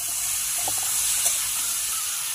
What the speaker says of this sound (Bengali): গাছের কুমড়োর ডাঁটা একদম সতেজ, খুব সুন্দর। এবার ভালোভাবে নাড়িয়ে নেব।